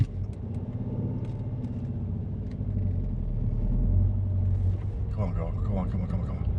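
A vehicle stuck on a sodden field rumbles with a low idling engine that swells as it revs, then eases off, with a person talking over it near the end.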